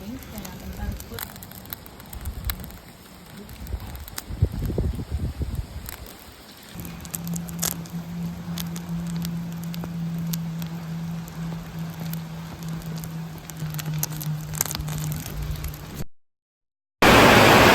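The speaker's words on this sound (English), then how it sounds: "It's raining like crazy out there." Heavy rain patters and crackles on surfaces nearby outdoors, with a low hum running through and a brief cut near the end.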